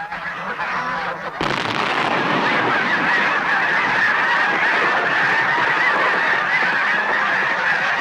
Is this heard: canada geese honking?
yes